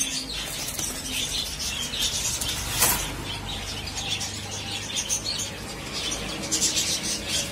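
Indian red Bombay pigeons in a pigeon shop, soft cooing and fluttering under a busy, noisy background with faint chirps, no clear talk.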